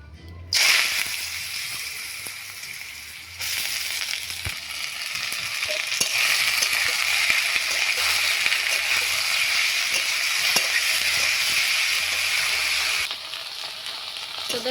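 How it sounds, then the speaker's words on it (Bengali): Potatoes fry in hot oil in a wok, a steady loud sizzle with scraping stirs that strengthens after a few seconds and holds, close up with no talking. "আলু কড়াই বসিয়ে দিয়েছি, তেলটাও এসে গেছে, তো আলুটা দিয়ে দিই"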